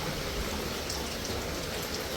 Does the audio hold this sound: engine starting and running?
no